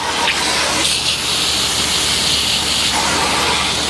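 A water sprayer rinses a freshly gutted and descaled fish on a Gulf fishing pier, a loud steady gushing hiss that runs unbroken and close.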